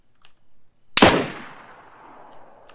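A single sharp gunshot in a video game, close and loud, cracking out of near silence and trailing off in a short fading echo.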